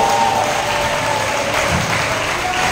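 Steady applause from a congregation at a worship service, dense and continuous throughout, with a faint sustained tone sitting beneath the clapping.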